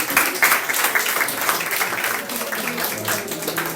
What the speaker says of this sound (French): On peut applaudir pour sa venue.